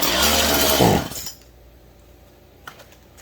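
A Stihl MS171 chainsaw engine fitted with a swapped carburetor runs loudly and then sputters and dies abruptly, followed by near quiet with a faint click.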